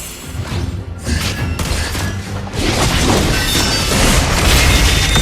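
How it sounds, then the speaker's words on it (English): A turret is destroyed in the Mobile Legends mobile game, making loud, dense crashing booms and shattering debris that build into a sustained roar without any voices. "Your team destroyed a turret."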